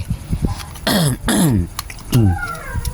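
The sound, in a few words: coughing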